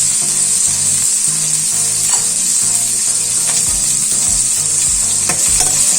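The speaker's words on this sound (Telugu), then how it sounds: "బాగా వేగనివ్వాలండి" Curry leaves sizzle loudly and steadily in hot oil for a drumstick masala curry, a dense close hiss punctuated by occasional stirring taps, with a low rhythmic hum underneath and no speech.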